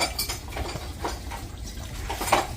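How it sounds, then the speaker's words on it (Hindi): A spoon stirs dal with garlic, chili and a little oil in a metal pot, giving soft scraping clinks against the pot at an irregular pace, close and fairly quiet, with no talking. "अब थोड़ा इसको हिलाया जाएगा ताकि लहसुन मिर्च और जो थोड़ा सा ऑयल डाला था वो अच्छे से इसमें मिक्स हो जाए।"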